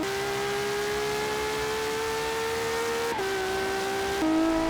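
A high-revving race car engine in Forza Motorsport 7 drones steadily, its pitch dropping sharply twice as it shifts gears. The sound is loud and close, with no voices.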